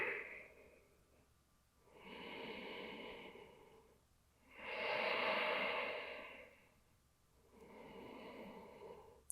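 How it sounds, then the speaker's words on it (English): Slow, deep breathing after a yoga sun salutation, three long airy inhale-exhale cycles close to the microphone, quiet and unhurried with no talking. "And just catching your breath."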